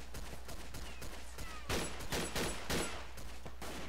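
Rapid gunfire and a mortar blast from the World War I shooter Verdun, with a Luger pistol in use. Dense volleys of shots crackle in quick bursts throughout, loud and close, with a heavier burst of fire in the middle.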